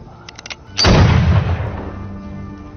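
A single heavy gunshot cracks out during a fierce shootout, loud and close, after a few faint ticks, then rolls into a long booming, reverberant tail that slowly fades.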